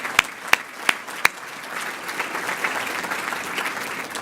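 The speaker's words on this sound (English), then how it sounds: "Let's give them a round of applause as well." Applause at a State of the County 2018 event, opening with several loud, distinct claps before settling into a softer, sustained ripple of clapping from the crowd.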